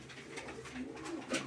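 Uzbek tumbler pigeons coo softly and repeatedly, a faint, low murmuring close by.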